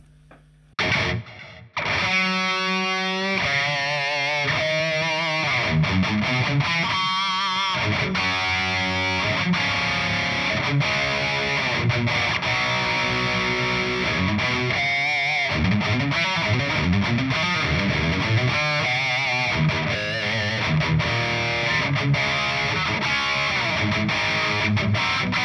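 Distorted electric guitar played through an Engl FireBall 25 amp recorded silently into an interface with a cab impulse response, delay and reverb, giving sustained chords and riffs with echoing tails, loud and steady after a short quiet start.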